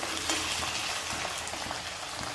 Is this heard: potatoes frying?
yes